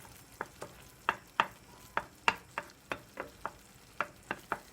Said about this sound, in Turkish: Şimdi üzerine 2 adet yumurtamı bırakıyorum. Şöyle beyazlarını hafif dağıtıyorum yumurtalarımın.